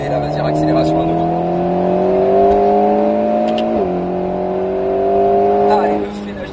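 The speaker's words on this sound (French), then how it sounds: "Et là, vas-y, accélération à nouveau." An Alpine A110 S accelerates hard around Circuit du Grand Sambuc, its engine note climbing steadily with a brief dip at a gear change before rising again, loud and close from inside the car while an instructor talks.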